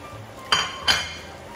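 Carrot pieces drop into a pot of simmering chicken kaldereta with softened potatoes, giving two quick, close clinks against the metal about half a second apart over a faint kitchen hiss.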